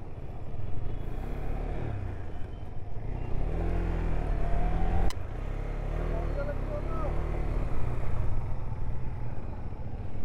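A motorcycle engine hums steadily on a road near Baranti lake in Purulia, with wind rush and a low drone under people talking, and a brief sharp click midway.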